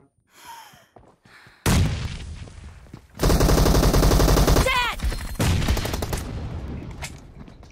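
Loud, close bursts of automatic gunfire in the mobile battle royale game PUBG Mobile rattle in rapid volleys over several seconds, with players talking excitedly at the same time.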